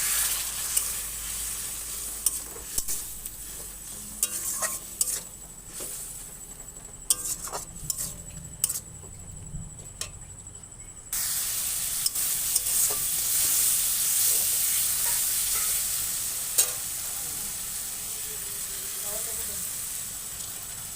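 Masala spices fry in a pan for a fish curry with intermittent spoon scrapes and pan knocks at first, then a louder, continuous sizzle and hiss for the second half.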